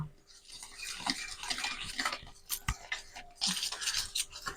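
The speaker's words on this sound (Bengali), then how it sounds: "আবার শুকনো অবস্থায় সবকে একবার ভালো করে মিশিয়ে নেব।" Dry cake ingredients, including powdered milk, being stirred together in a bowl for eggless caramel cupcakes, giving a steady series of soft scraping and tapping sounds close by with no talking.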